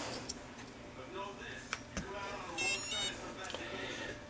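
A drone's ESC, set to 8.4 volts, runs through its startup beep sequence after the battery is plugged in, giving short electronic tones and a brief run of higher chirps, quiet and close over light background noise.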